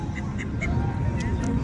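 Duck quacking in a short series of nasal calls near Queenstown, New Zealand, heard over steady outdoor background noise.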